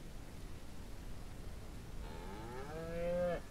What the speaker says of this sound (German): Hier, Kuh.